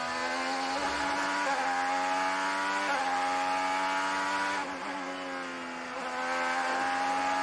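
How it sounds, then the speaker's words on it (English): An IndyCar race car on the Monterey road course screams through its gears, loud sustained engine whine stepping up in pitch with a drop at each shift, repeating several times with no voices. "Seems like the gearing's a little shorter in Newgarden's car for 3rd, 4th, 5th versus what Ericsson sounded like."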